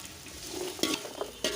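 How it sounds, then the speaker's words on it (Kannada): Raw ginger frying in a large batch of oil for masala khara, a steady close hiss with a few scraping stir strokes cutting through it, brief and alone. "ಹಸಿ ಶುಂಠಿ ಸ್ವಲ್ಪ ಫ್ರೈ ಮಾಡ್ಕೊಳ್ಳೋದು"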